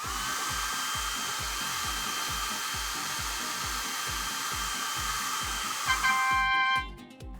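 A hair dryer blows steadily with a pulsing motor whir while drying the wet interior of a convertible car, ending in a brief clatter as it shuts off.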